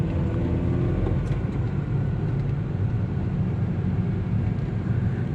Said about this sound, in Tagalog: Naana ko diri guys sa highway.